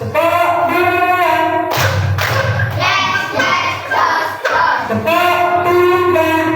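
A class of children claps hands in unison during a group clapping chant, with bursts of claps and thuds mixed into loud, continuous chanting voices nearby.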